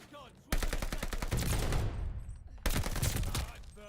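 Bursts of automatic gunfire ring out in a Call of Duty Vanguard multiplayer match, two rapid volleys with a short gap between them, loud and close.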